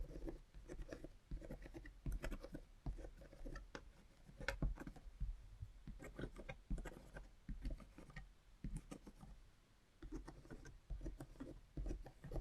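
A pencil sketches roosters on watercolor paper in quick, close scratching strokes, with short pauses and bursts of rapid marks, faint and steady with no speech.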